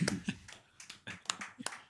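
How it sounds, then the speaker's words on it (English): A few people clapping for a podcast guest, a short, sparse round of separate claps heard close up in a quiet room. "Give a round of applause for Devin."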